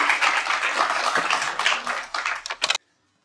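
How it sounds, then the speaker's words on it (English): An audience at a textile arts event applauds a presenter, with dense clapping that thins into a few scattered claps and then stops abruptly into silence. "Please let's give applause for the Textiltruck Malmö representative, Josbeth Werkmester."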